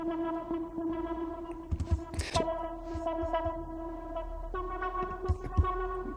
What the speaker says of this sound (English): the next thing we've got is this lead sound,